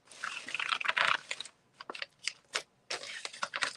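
Scissors cut through a paper flour bag in short crisp crunching snips, close and clear, in bursts with brief pauses between them and no talking.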